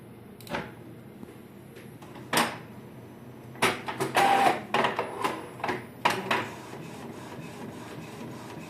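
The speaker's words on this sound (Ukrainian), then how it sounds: "Починаємо друк." Epson L3256 inkjet printer printing a photo on glossy paper: a series of close mechanical whirs, clunks and short bursts of paper-feed and print-head movement, irregularly spaced, with no voices.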